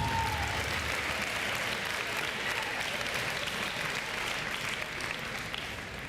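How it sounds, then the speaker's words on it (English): A school fall sports ceremony audience claps steadily for about six seconds, dense indoor applause holding at an even level with a faint whistle-like tone early on. "So let's give a big round of applause to you all for the efforts that you put in."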